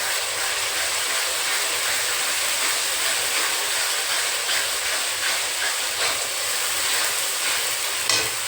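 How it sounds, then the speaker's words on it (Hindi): Tomato masala for a matar paneer khoya curry fries in hot oil, giving a constant hissing sizzle with faint spattering crackles and a sharper pop near the end. It is close and steady, with no talking. "तो इसको भूनने के लिए हमें बंद करना पड़ेगा, क्योंकि बाहर छिट्टे आ रहे हैं तेल के।"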